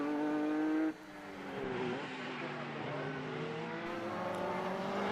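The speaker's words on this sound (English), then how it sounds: "The Lola of Fildes powers on in 5th as the one of Mansfield pulls in" Race cars, including Lola and Radical machines, competing in a Formula BOSS Ireland round, one engine note dropping away before others rise and sweep past with changing pitch at moderate distance.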